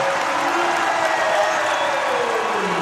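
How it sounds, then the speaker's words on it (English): Basketball crowd at a men's national championship semifinal between StFX and Victoria cheering loudly after a play, a dense, sustained roar of voices and clapping filling the arena without a break. "The crowd is too loud."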